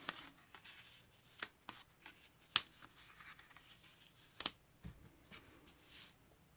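Small paper pieces set down one by one on a card for a scrapbook album page, each making a soft, quick tap or rustle, close and faint, in an irregular sequence with quiet gaps between.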